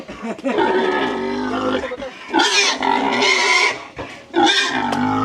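Loud squeals and grunts from tethered pigs come in several long, harsh bursts close by, with a voice mixed in among them.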